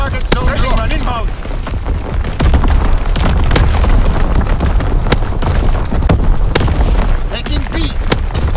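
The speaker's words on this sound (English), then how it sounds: "Target zone locked. Strafing run inbound." Explosions and rapid gunfire from a strafing run in the World War II shooter Call of Duty: WWII, on the Shipment 1944 map in Domination mode, form a dense, loud barrage of booms and sharp cracks that runs throughout, with a voice briefly heard early on.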